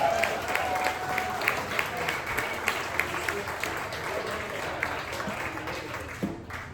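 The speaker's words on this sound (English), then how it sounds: "Give him a nice round of applause." A packed comedy club audience at a tavern show claps in sustained, even applause with scattered whoops, full and close, with no speech over it.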